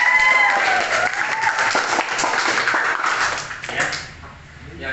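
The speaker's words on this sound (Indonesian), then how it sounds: "Biar lebih semangat kasih tepuk tangan dulu loh" Classroom applause from students during a grade 7 Islamic moral studies lesson, a steady patter of clapping that thins and fades toward the end, with some voices mixed in.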